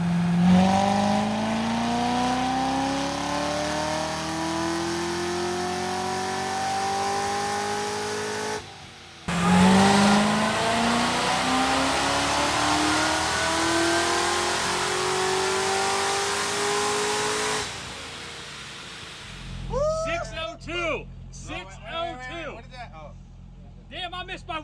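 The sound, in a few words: ZR1 Corvette engine revving on a dyno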